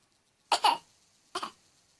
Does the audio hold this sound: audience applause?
no